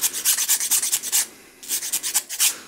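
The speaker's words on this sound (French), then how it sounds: "Donc là, j'ai pris une lime légèrement arrondie." A slightly rounded hand file rasps back and forth across G10 knife scales for a custom Victorinox, rhythmic scratchy strokes close by, with a brief pause midway before the strokes resume.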